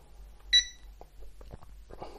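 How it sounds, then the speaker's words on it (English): An RC transmitter for a Mould King Super-S model gives a single short bright beep as it is switched on, followed by faint handling clicks and rustles close by against a low hum. "let's turn on this transmitter"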